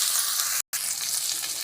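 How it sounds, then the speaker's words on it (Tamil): Onions and green chili sauté in a pan for a cauliflower gravy, a steady close hiss of sizzling oil broken by one brief silent gap, no talk. "வெங்காயத்தை நல்லா வதக்கி விட்டுக்கோங்க."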